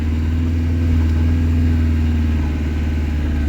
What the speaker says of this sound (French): J'accélère.